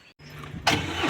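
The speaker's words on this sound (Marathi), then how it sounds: "चला गाडी निघाली." A car engine cranks and catches as the vehicle sets off, a short rising burst of engine noise heard close up after a brief quiet moment.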